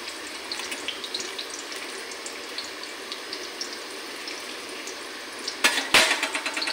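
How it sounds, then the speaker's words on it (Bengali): Chopped onions frying in hot oil in a wok give a continuous soft sizzle with small crackles, then louder stirring clatters near the end. "কড়াইতে তেল দিয়েছি। এখন পেঁয়াজ আর কুচি কুচি করে কেটে রেখেছি ওগুলো দিয়ে দেব।"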